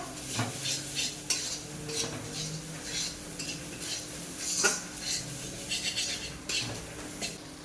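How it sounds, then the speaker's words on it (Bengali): Coriander and cumin powder masala being stirred and fried in a pan for ghugni: a spatula scrapes and clinks against the metal repeatedly under a faint sizzle, close and moderately quiet. "দিয়ে মশলার সঙ্গে ভালোভাবে কষে নেব"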